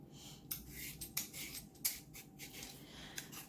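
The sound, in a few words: peeling sweet potatoes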